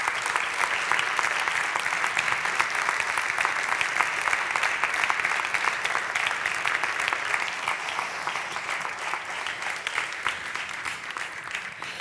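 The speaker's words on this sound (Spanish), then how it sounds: "Un fuerte aplauso para ellos, por favor." Sustained audience applause at a colloquium following a documentary screening: a dense, steady wash of many hands clapping that fills the whole stretch at an even loudness and tapers only slightly toward the end, with no voices over it.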